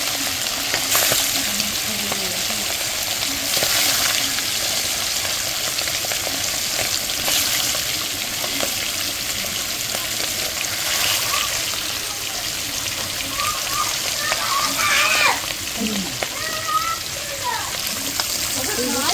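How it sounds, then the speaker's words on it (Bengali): Hilsa fish frying in a pan during home cooking for a puja, a steady close sizzle with stirring clatter throughout, while a person talks over it. "ভাজাভুজি হয়ে গেছে, এবার মাছ ভাজছি।"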